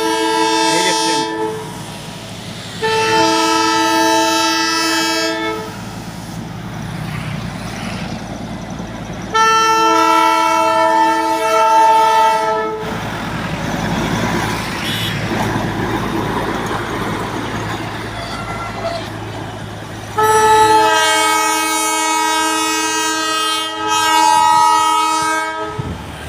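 A toy train passes the Gyan Jyoti crossing, sounding repeated loud multi-tone horn blasts in three long bursts over a steady rumble of the moving train.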